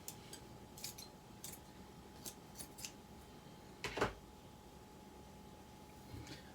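Sharp scissors snip through fleece fabric in a series of quick, crisp cuts, with a louder double snip near the middle, close up and quiet with no talking.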